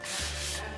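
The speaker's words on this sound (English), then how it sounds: "it's just a very, very light sanding" Light hand sanding across a cabinet surface, a steady soft scratchy rub that holds close and continuous for under a second with no voices.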